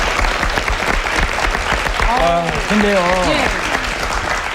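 Studio audience on a Korean television talk show applauds a student scholarship recipient, steady dense clapping throughout with a voice speaking over it near the middle.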